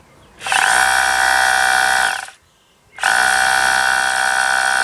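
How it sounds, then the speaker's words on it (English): A Bosch PBH 2100 RE SDS hammer drill drills through a concrete slab, whining loudly in two bursts separated by a short pause, a harsh, steady mechanical drone up close. "Drilled right through the slab, so it's working fine."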